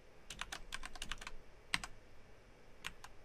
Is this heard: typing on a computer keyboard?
yes